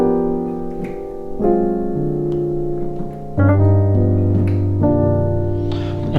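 A keyboard plays a gospel chord progression of sustained, rich chords that change every second or so with a moving bass line, warm and close, without any talking.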